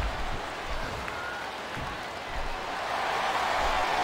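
Crowd noise from a WWE Smackdown vs Raw 2007 wrestling arena fills the whole stretch as a steady, broad roar of cheering that swells slightly toward the end, with no talk over it.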